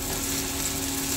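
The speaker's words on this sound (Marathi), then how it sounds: "कांदा अगदी व्यवस्थित परतून घ्यायचा आहे" Chopped onion sautéing in a pan over low heat for shevai upma, a steady, even sizzle and crackle holding at a constant level throughout, with no talking.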